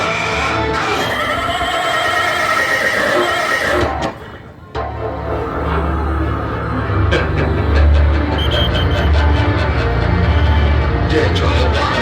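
A horse whinnies amid a loud devotional Navratri tableau performance, with voices, music and a brief drop in sound partway through.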